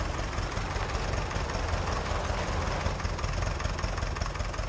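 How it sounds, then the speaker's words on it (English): A tractor engine idling in the farming video game Farming Simulator 19, a steady, continuous low rumble held at an even level with no talk. "And then turn the engine off."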